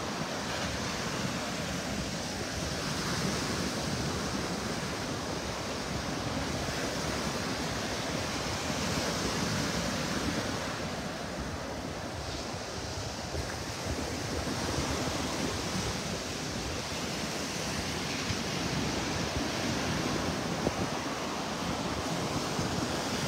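On a beach on North Hutchinson Island at sunrise, ocean surf rolls in as a steady, broad wash that swells and eases gently, mixed with breeze buffeting the microphone and no talk.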